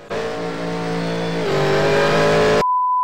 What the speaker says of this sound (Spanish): Literalmente parece un auto eléctrico por cómo suena.